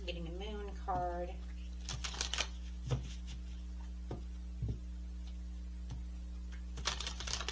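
Moon oracle cards being shuffled and drawn from a deck, a series of soft papery riffles and taps scattered across the moment over a steady low hum, with a brief voice at the start.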